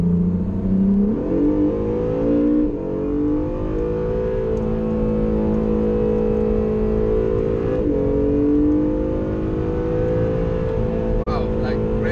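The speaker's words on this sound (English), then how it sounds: "Between the whole powertrain there, it's able to accelerate quite quickly." Acura NSX (2017) accelerating hard out of a late-apex corner onto a track straightaway, its engine note climbing steadily and loud and close throughout, with a brief shift dip near the end.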